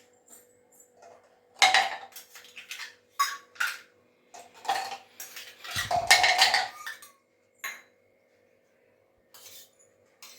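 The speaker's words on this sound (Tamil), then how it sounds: "இந்த ஐஸ் கியூப் போட்டுக்கலாம் ஃப்ரெண்ட்ஸ்" Ice cubes tumble into a glass of nungu juice in a series of close, bright clinks and rattles, a few separate drops followed by a louder cluster, with quiet pauses between.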